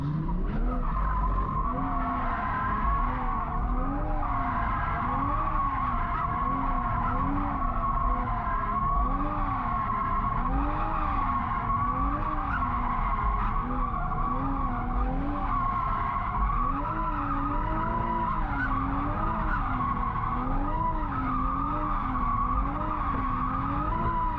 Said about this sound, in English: Having another go in the Supra because I couldn't quite figure it out before.